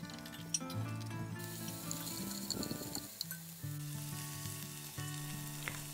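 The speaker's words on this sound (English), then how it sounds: "we will saute the onions and the herbs and spices" Onions, herbs and spices sauté in plenty of olive oil, giving a steady close sizzle with some stirring, partly under background music.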